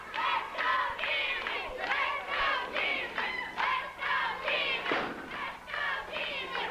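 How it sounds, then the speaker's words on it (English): Crowd at a wrestling match chanting "Let's go, Jimmy" in a steady rhythmic cadence, the repeated phrase loud and filling the arena, with a few thumps underneath. "Let's go, Jimmy, says the cheering section"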